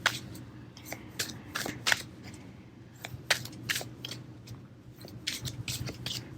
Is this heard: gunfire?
no